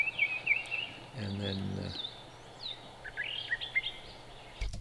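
A brown thrasher sings outdoors in bursts of varied, whistled phrases that come and go against steady background noise, with a brief stretch of someone talking partway through.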